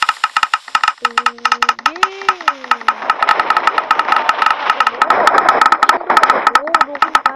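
A rapid-fire firework launcher in Minecraft firing in a fast, dense series of sharp pops over an engine-like hum, with a voice talking underneath.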